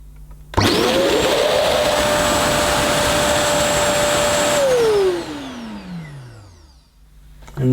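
A Bissell Hydrowave JetScrub compact carpet washer switches on with a loud, steady motor whine as it draws clean water through its nozzle, then spins down and fades as it switches off.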